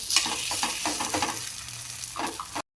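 Rava poha appe fry in oil in an appe pan, a steady close sizzle with repeated scraping and turning clicks as the little cakes are flipped, ending abruptly.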